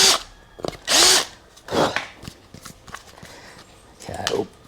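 A power drill widens holes to 12 mm during a switch relocation on a Suzuki VL250 bobber motorcycle, running in four short, loud, close whirring bursts separated by quieter pauses.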